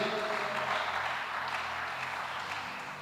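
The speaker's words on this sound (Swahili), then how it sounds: "Est-ce qu'ils peuvent acclamer ce Jésus" A church congregation at a revival seminar claps and cheers steadily in a continuous, dense wash of applause. The sound is moderately loud and fills the hall without pause.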